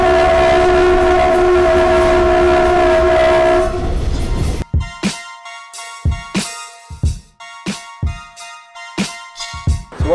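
A train at Kalk Bay, Cape Town sounds a loud sustained horn, then passes close by with rhythmic, heavy clickety-clack of wheels over rail joints, repeating steadily as the carriages roll past.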